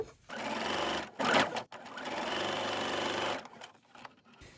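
A sewing machine stitches rows of patchwork quilt fabric for a 9-patch block, running steadily in two close, loud bursts with a brief pause between them and no talking.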